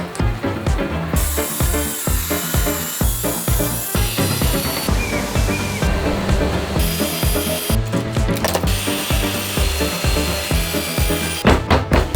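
A flimsy handheld saw rough-cutting plywood for a camper van bed module, loud rhythmic rasping strokes repeating steadily with brief pauses, close up and without talk.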